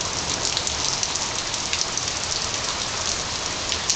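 Heavy rain pours down during an August hail storm, forming a dense, steady hiss that stays loud and unbroken throughout with no voices.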